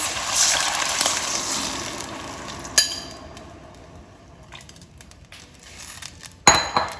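Soaked red lentils tip into a pot of tomato puree for lentil soup: a wet, rushing pour at first, then a sharp metallic clank from the pot and another clatter near the end.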